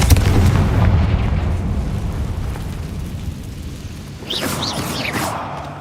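A Confringo blasting spell explosion in Hogwarts Legacy combat: a heavy, rumbling boom at the start that slowly decays, followed later by a burst of sharp, bright magical whooshes and crackles.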